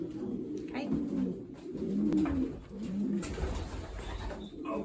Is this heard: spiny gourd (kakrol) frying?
no